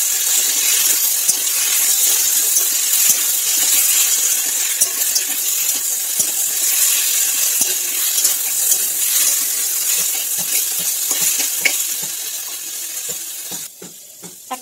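Ginger garlic paste cooking in a pan over a low gas flame, a steady close sizzle with small crackles and pops running throughout, no voices.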